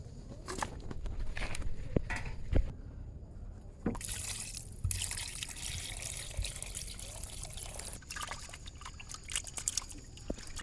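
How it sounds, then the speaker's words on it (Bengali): Raw chicken is washed under running water, a faint trickle and splash with occasional clunks and handling noises, quiet and close. "প্রথমে চিকেনটাকে ধুয়ে নিতে হবে"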